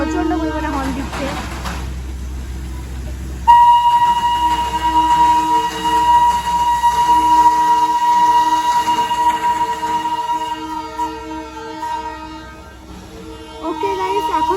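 A toy train on a hill railway passes close, its long steady whistle tone sounding over a low rumbling engine, with people talking before and after.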